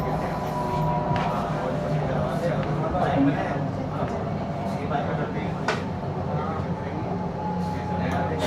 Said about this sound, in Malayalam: ഇത് കഴിയുമ്പോൾ ട്രെയിൻ അണ്ടർഗ്രൗണ്ട് പോകും കേട്ടോ.